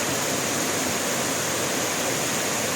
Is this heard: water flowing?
yes